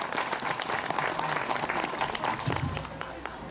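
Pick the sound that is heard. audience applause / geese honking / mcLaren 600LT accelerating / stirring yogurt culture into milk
audience applause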